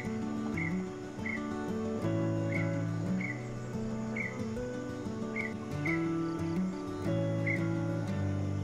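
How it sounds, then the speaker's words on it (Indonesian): Birds chirp repeatedly over a steady, dense layer of insect buzzing and tonal calls, a lively outdoor morning chorus in a forest with no one talking. "kita akan dibangunkan oleh suara-suara dan kicau-kicauan nyanyi-nyanyian burung"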